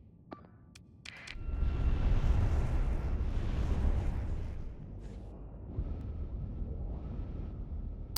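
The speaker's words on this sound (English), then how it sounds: "Missiles for everyone." Missiles launched from a ship in a space video game, a few sharp clicks and then a loud roaring whoosh that swells and slowly fades, with a lingering rumble and a faint tone.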